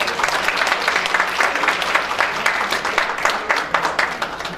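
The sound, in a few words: audience applause for violist Jang Seon-jeong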